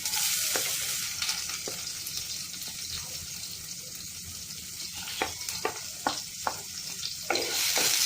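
Onion and green chilli hit hot oil with popped mustard seeds, giving a bright, steady sizzle broken by repeated clicks and scrapes of stirring, loudest near the end.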